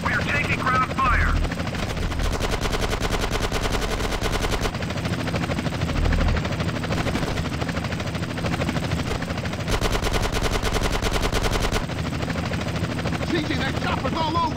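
Helicopter rotors thump continuously while bursts of rapid machine-gun fire rattle in long stretches in Grand Theft Auto: San Andreas, loud and close, with voices talking underneath.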